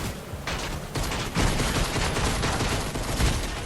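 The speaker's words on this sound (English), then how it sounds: "And I can't hear because of this gun noise." Loud, dense gunfire fills the background in rapid, continuous bursts like a sustained fusillade, with the volume surging and holding steady throughout.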